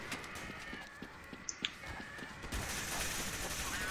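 Rapid gunfire from Counter-Strike: Source zombie mode comes as a run of quick, fairly quiet shots. Near the end the game's noise swells into a denser, louder wash.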